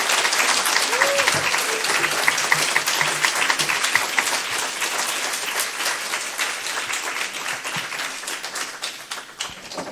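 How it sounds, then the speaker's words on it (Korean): An audience at a lecture forum in Busan claps loudly to welcome a professor onto the stage, a dense, sustained burst of applause with crisp individual claps that gradually thins toward the end, with a voice briefly heard beneath it. "이분은 진짜 박수 크게 쳐주셔야 돼요"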